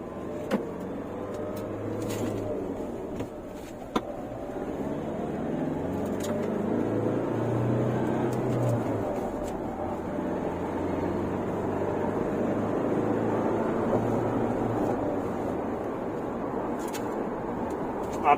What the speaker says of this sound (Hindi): अभी मैं थोड़ा स्ट्रेच करके दिखाऊंगा आपको गाड़ी कितना फर्स्ट गियर में टॉप स्पीड ले सकती